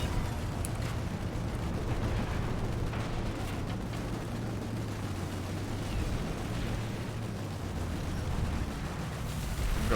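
Gunfire and explosive rumble in the online shooter PlanetSide 2 during a tank column raid, a dense continuous barrage of shots and booms over a low engine drone, loud and sustained, with no talking.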